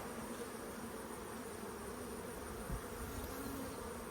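Agitated honey bees drone steadily at an opened hive, a dense, continuous buzz close by with a few louder passes near the end, and no voices.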